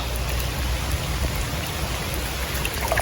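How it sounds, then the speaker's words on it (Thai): Rain falling steadily, an even, dense hiss of drops striking surfaces nearby, loud and unchanging throughout with nothing else heard. "ฝนตกฟ้าห้อง"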